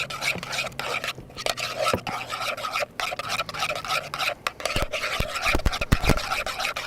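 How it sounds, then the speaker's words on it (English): Minced garlic being stirred in a cast iron skillet, rough scraping and rasping of a utensil against the iron with sharp knocks, while a person talks intermittently. "We're going to give it a quick little stir."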